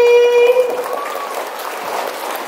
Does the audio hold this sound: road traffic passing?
no